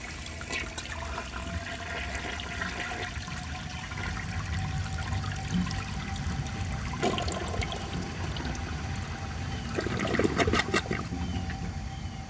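A 1984 Eljer Murray toilet flushes with a loud, sustained rush and swirl of water that lasts throughout, then gurgles and trickles near the end as the bowl refills.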